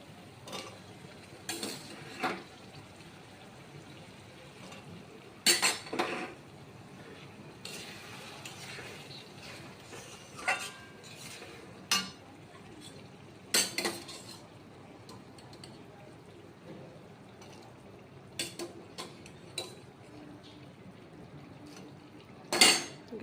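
Boiled chickpeas are stirred into cooked masala in a pan, with a spoon scraping and clinking against the metal at irregular intervals over a soft background sizzle.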